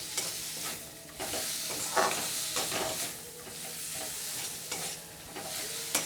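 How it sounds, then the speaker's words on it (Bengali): Tomatoes and young green peas fry in a pan while a spoon stirs them, a soft, steady sizzle broken by repeated scraping strokes at an uneven rhythm, faint and close with no voices. "এবার ভালো করে টমেটো গলে যাওয়ার অবধি অপেক্ষা করে ভালো করে ভাজতে হবে।"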